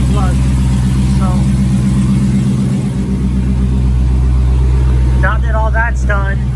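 A Dodge Charger Hellcat idles under a steady low rumble that runs the whole time, with a dip in the middle. Short voiced bursts come over the engine near the start and again toward the end.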